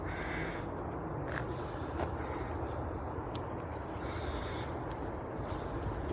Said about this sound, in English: No, it's a magpie, isn't it?